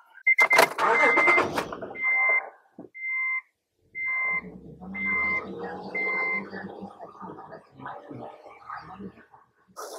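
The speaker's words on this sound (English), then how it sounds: "let's start it up. Increase the RPM to 2500 for 5 seconds" A car engine started and raised to about 2500 RPM during an Ancel PB600 tester check. A brief crank and a low rumbling rev sit amid a series of short, evenly spaced high electronic beeps from the tester.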